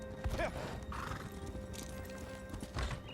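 Hoofbeats of a horse galloping in The Elder Scrolls Online, with a couple of neighing whinnies, played at moderate level under game music and ambience, with no talking.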